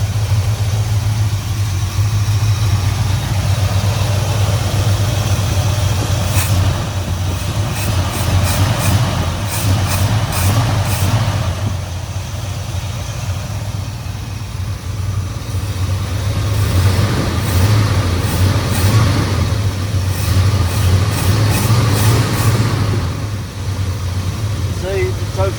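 An old red truck engine idles steadily with its choke stuck closed, a low continuous rumble that surges slightly in places, with faint metallic clinks of wrenches and occasional talk nearby.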